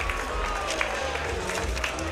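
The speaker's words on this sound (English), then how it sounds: "Crowd giving applause for him" Crowd applause at a University of MMA fight night in Los Angeles as an injured fighter with a broken arm gets back to his feet, steady mid-distance clapping with murmuring crowd noise throughout.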